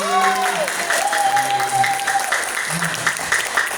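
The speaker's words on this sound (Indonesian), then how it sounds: "Oke, tepuk tangan sekali lagi." Applause from an audience at a seminar or talk, steady clapping with some voices and tonal sounds running over it throughout.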